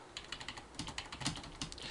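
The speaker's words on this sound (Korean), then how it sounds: "잠깐 제가 여기서 워드 타이핑을" Fingers type on a computer keyboard in a word processor during a programming lecture, a quick run of close, crisp keystrokes in uneven bursts with no one speaking.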